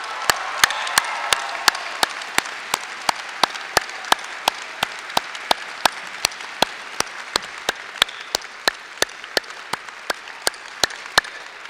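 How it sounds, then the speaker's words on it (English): A commencement audience at Front Range Community College Westminster in 2016 applauds for about twelve seconds, a dense and steady wash of clapping with sharp, evenly spaced beats running through it and no distinct cheering. "celebrate the lives of these two young people with applause and cheers for the lives that they led"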